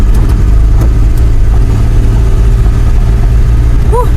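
A car engine drones steadily while climbing a steep dirt road, loud and low with a constant rumble and a faint voice briefly near the end.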